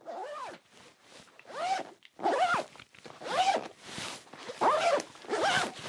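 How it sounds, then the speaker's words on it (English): Zipper on an OBSEP EDC bag pulled open and shut in a series of quick, close strokes, each a bright rising and falling zip with brief pauses between, with no talking. "I haven't really got down what way I want to pull the zipper from"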